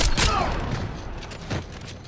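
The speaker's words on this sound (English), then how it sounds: "I'm hearing gunfire." Gunfire in the stealth shooter Splinter Cell: Blacklist: a dense burst of shots at the start, then another loud blast about a second and a half later, set against a steady game background.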